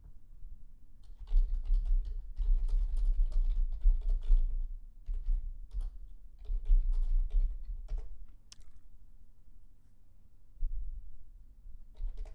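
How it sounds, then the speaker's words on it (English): Steady clatter of keys on a computer keyboard, in bursts with short pauses, close and moderately quiet, no talking. "Ana Lucia, are you typing something?"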